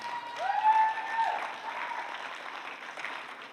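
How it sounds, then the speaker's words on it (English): Church congregation clapping hands, a moderate round of applause that swells briefly and then carries on softer, with a faint tone ringing at the start. "By way of clap of hands, please tell me."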